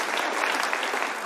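A short burst of steady applause from a church congregation, many hands clapping together at an even, moderately loud level.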